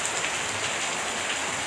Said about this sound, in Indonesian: lagi-lagi hujan sangat deras guys